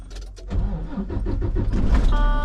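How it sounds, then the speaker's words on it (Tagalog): A truck engine cranks and catches, rising from a short starter whir into a loud, steady rumbling idle close by, with no voices over it. "Kapag i-start ko tong truck, yan, start natin ang truck."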